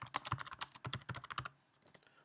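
Fast typing on a computer keyboard: a rapid run of crisp, close key clicks for about a second and a half, then a few softer taps fading out.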